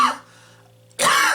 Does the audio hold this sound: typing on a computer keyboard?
no